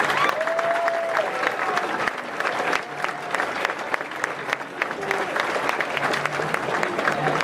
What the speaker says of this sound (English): Please join me in applauding our Air Force's newest leaders.